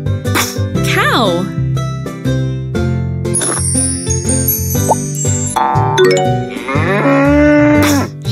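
A cartoon cow moos loudly in a children's animal game, the long mooing calls set among bright chimes, jingles and playful game sounds.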